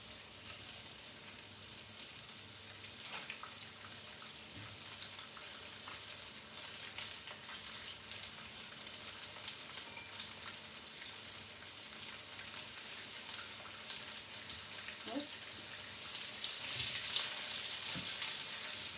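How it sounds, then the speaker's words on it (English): Chicken fillet frying in oil for a homemade burger, a steady broadband sizzle that holds through the whole stretch with a few small pops and crackles, growing slightly louder toward the end, with no talking. "You let it fry a bit."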